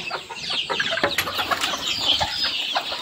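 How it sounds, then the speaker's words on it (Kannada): Free-range country chickens are let out of their coop at seven in the morning, giving a busy stream of close, overlapping clucks and short calls, with some rustling throughout. "ಇವಾಗೇನು ಒಂದು 7 ಗಂಟೆ ಆಯಿತು, ಕೋಳಿ ಬಿಡೋಣ."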